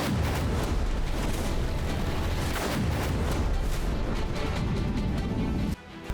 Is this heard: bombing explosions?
yes